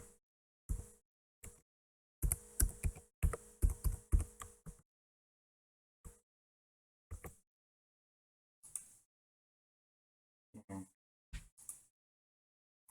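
A password is typed on a computer keyboard in quick bursts of close, crisp key clicks, with gaps and isolated taps between the clusters.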